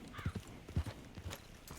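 Horse hooves clip-clopping in a video game, a few hollow, uneven thuds near and fairly loud, with a brief snort, no talk over them.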